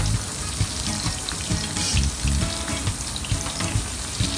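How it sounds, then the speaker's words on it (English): Prawns deep-fry in a pan of hot oil, giving a dense, steady crackling sizzle with small pops throughout, close and loud, with no voices. "then you heat oil in a pan, and then you can fry these prawns"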